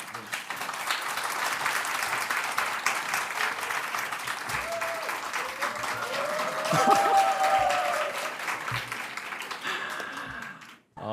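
A church congregation at a Sunday worship service applauds a pastor as he arrives, with sustained dense clapping that fills the room for several seconds and then drops away abruptly at the end.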